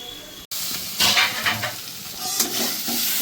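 Spice paste for a prawn curry with potatoes sautés in a pan, a steady sizzle broken by scraping stirs and a brief dropout, close and fairly loud with no talking.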